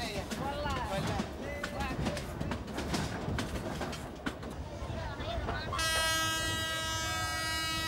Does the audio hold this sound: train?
yes